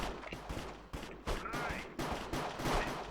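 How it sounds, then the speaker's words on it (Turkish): Gunfire in a Minecraft Counter-Strike mini-game on the de_Aztec map, dense bursts of rapid shots crackling close and loud, with a few sharper single reports, continuing without pause. "Abi kim vuruyor ya?"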